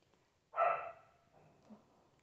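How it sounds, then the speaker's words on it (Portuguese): A pet dog playing outdoors gives one sharp bark at a distance, then a fainter yip follows, with quiet between. "meu cachorro tá brincando ali fora. Vocês me perdoem, se ele fizer muito barulho"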